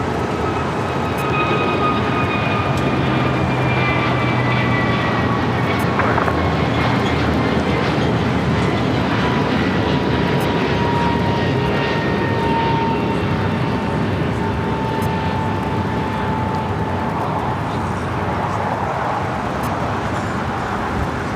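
A jet airliner at LAX, the flight bound for Honolulu, roars loudly and steadily throughout with a sustained broadband rumble and whining engine tones, no talking heard.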